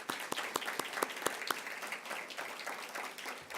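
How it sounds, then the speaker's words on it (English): An audience at an annual meeting presentation applauds, with distinct sharp claps standing out early over a spreading wash of clapping that thins slightly toward the end. "Let's give them a round of applause."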